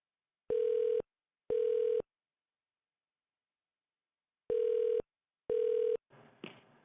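A telephone ringback tone sounds during a call transfer: two evenly spaced pairs of electronic rings separated by a long silence. A faint rustle follows the last ring.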